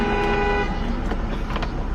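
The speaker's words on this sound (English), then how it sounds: "Who's honking at who?" A car horn sounds in steady, sustained tones outside, with a second shorter honk following, set against a broad wash of road and vehicle noise.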